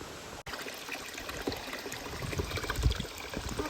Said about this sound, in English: Let me fill up your water trough real quick, top it off